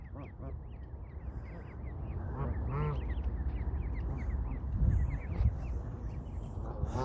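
Geese being fed bread at a pond, honking and quacking calls repeating in irregular bursts from several birds close by, with outdoor noise and some human voice mixed in.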